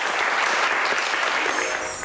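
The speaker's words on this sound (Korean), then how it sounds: "박수 부탁드릴게요" An audience claps before a university lecture on naval architecture and ocean engineering, a dense even burst of applause heard alone for a couple of seconds.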